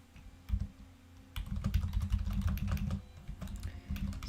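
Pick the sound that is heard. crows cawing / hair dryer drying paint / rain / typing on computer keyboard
typing on computer keyboard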